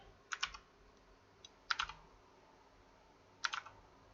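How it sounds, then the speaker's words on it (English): Keystrokes on a clicky computer keyboard come in three short, sharp bursts of a few presses each, spaced well apart, close up and alone over a quiet background hum. "Yes, I've got one of those lovely clicky keyboards."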